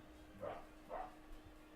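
A dog barks upstairs, two muffled distant woofs spaced about half a second apart in an otherwise quiet room.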